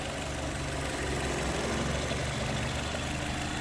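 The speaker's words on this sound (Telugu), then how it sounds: "ఇంజన్ బీటింగ్ కూడా చూసుకోవచ్చు." A Maruti Ciaz Delta sedan idles with a steady, even low hum and faint mechanical rumble, constant in level and heard alone.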